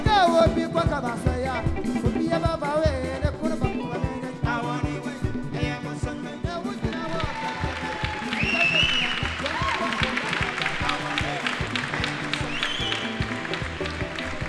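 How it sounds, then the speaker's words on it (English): Audience clapping at a live music concert, a continuous crowd wash building after a sung passage, steady and moderately loud alongside lingering music and voices. "thank you for clapping"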